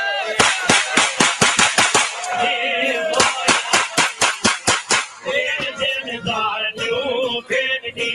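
Gunshots crack out in rapid volleys of sharp, loud bursts, several quick strings of them with short pauses in between, and voices are heard in the gaps.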